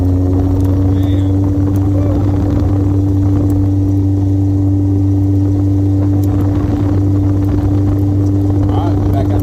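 Vintage 1967 Lotus 7 on the road, a steady low engine drone and rumble heard from inside the open, low-slung car, loud and unbroken throughout.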